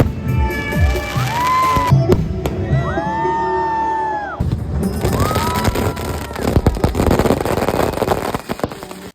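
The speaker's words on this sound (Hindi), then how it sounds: "यहाँ पे फायर वर्क भी स्टार्ट हो गया फाइनली" Fireworks bursting over a riverside ghat during the Dev Deepawali festival, a dense run of bangs and crackles under a loud, cheering crowd with whoops and shouting, with a whistling rocket streak.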